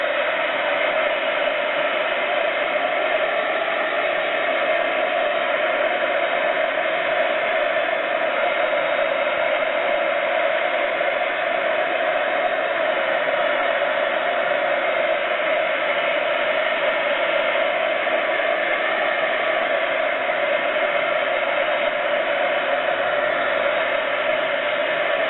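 Hair dryer blowing steadily on a wet journal page, a loud continuous whooshing hum that holds evenly throughout with no talking.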